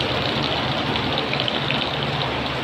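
Heavy rain pours down on a grape vineyard in a dense, steady hiss of countless drops striking leaves and ground, loud and continuous without pause.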